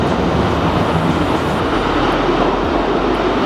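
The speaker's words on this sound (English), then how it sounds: "admittedly it's a bit noisy because of all the trains" Model railway trains rumble and clatter continuously overhead at an exhibition, heard from underneath the layout's tracks as a steady, dense, close mechanical noise with no talking.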